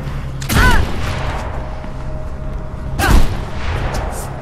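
Gunfire in the Mirror's Edge video game: two loud, sharp shots land about two and a half seconds apart, each ringing out with a brief metallic echo over a low background hum.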